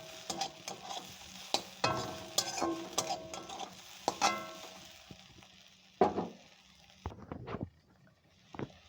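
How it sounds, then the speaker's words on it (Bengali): Bitter gourd with onion, chili and potato fries in a pan, giving a soft sizzle broken by repeated scraping stirs and clinks of a spatula at close range. "তো দেখতে পাচ্ছেন ভালো করে লালচে লালচে ভাজা হচ্ছে, এখনও আর একটু ভাজা হবে"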